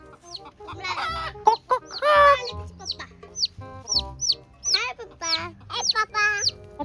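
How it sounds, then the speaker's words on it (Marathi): A village rooster clucks and squawks in bursts, close and loud, among other chickens' chatter over a low rural background. "कोंबडा आला."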